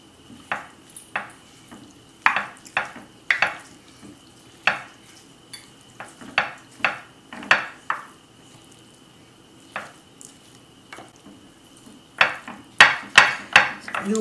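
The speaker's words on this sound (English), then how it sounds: "And then I'm gonna stir it. Pick up all the wonderful stuff from the bottom." A spoon works pasta and kale through gravy in a pot, scraping the bottom in a regular series of sharp strokes against the metal over a low steady hum, with a quick burst of rapid scrapes near the end.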